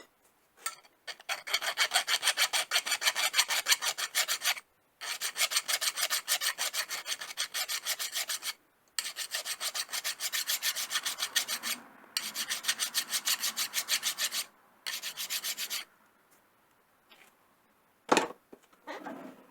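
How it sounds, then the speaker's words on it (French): A hand file rasps across a freshly tapped 1/4-inch thread, 12.7 mm diameter with 19 threads, to deburr it. The strokes come in close, steady back-and-forth bursts with short pauses between them, and no one talks. "un petit coup d'ébavurage dessus, un petit coup de lime"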